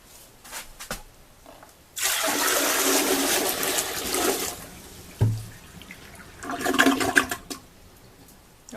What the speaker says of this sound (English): I got 5 gallons of water, and I'm just going to put it in there quickly, and hopefully that'll force more water out of the toilet